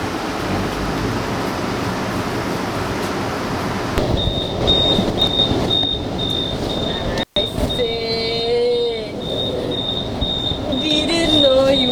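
Continuous rumbling rail noise from inside a moving train, with a steady high wheel squeal and shifting whines over the clatter; loud and close, with voices talking at times.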